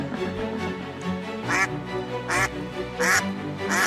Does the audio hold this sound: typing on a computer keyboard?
no